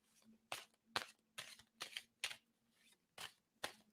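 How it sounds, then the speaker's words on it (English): Tarot cards are shuffled in a quiet room, giving about eight crisp riffling bursts in an even rhythm over a faint low hum, close by and with no talk. "I'm going to stop shuffling"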